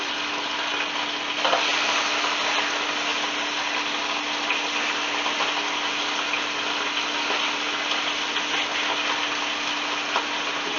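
A seasoned pork steak sizzles steadily in a Copper Chef roaster, a loud, even hiss of frying fat that carries on without a break, with a brief sharper crackle early on as the meat goes in.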